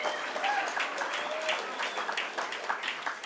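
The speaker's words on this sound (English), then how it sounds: "give them a round of applause." Steady applause from an audience at a national Indigenous arts awards ceremony: many hands clapping in a dense, even patter at moderate volume, with faint voices or whistles briefly audible.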